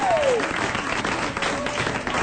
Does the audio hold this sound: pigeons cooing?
no